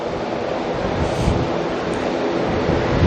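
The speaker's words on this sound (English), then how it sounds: "It's the wind. The wind is blowing the internets around." Wind blows across an open spot at Auckland Airport with a steady, roaring rush and buffeting against the microphone, loud and unbroken with no voices.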